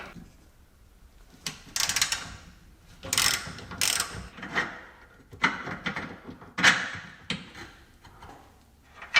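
Ratchet clicks on an 18mm hex bolt during rear suspension teardown on a Jaguar S-Type: close, intermittent bursts of metallic ratcheting and clanks separated by quiet pauses, with no talking.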